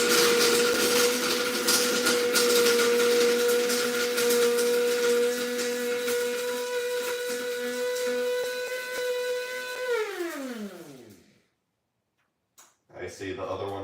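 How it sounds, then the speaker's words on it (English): A coffee grinder grinding vitamin C tablets, giving a steady loud motor whine for about ten seconds, then pitching down as the motor winds to a stop, followed by brief silence and a small clatter. "I've got a coffee grinder. So I'm just going to grind up these vitamin C tablets."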